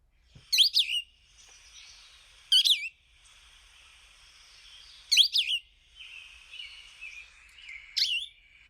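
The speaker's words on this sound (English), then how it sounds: "something like Cassins, Vireo. Cassins, Vireo. Here, listen to it." A Cassin's Vireo sings alone, close and clear, repeating short whistled phrases in alternating upward and downward patterns, with four bright bursts spaced a few seconds apart and softer warbling between them.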